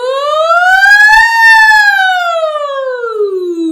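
A single sustained voiced siren imitation, rich in harmonics, glides smoothly upward then slowly back down in pitch, loud and close, as part of a singing exercise.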